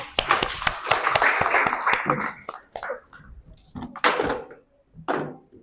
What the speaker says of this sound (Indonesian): Oke, berikan tepuk tangan dulu dong